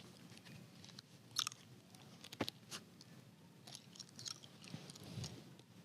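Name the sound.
chewing hard candy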